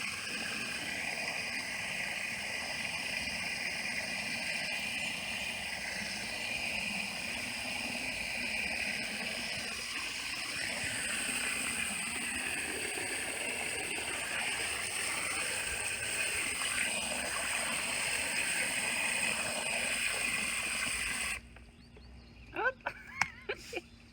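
Hose water gushes and churns around a small Lego boat in a steady, loud rushing stream for about twenty seconds, then cuts off to quieter splashes and drips.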